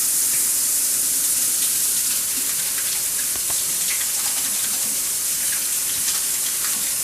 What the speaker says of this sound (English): You need to wash your hands for about 20 seconds.